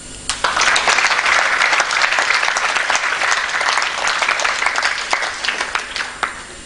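An audience at a spiritual talk bursts into sustained applause, a dense crackle of many hands clapping that holds steady for several seconds before thinning out, fairly loud and without any talk over it.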